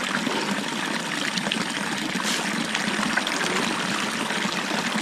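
Water from a supply line flows steadily into tilapia fish ponds, a continuous broadband rush and trickle at moderate level with no break across the whole stretch.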